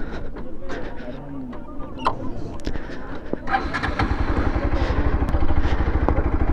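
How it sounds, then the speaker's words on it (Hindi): A Bajaj Pulsar RS 200 motorcycle engine idles after starting with a steady low rumble that thickens in the second half, with scattered clicks and clatter and muffled voices around it. "और ये बाइक स्टार्ट हो गया है"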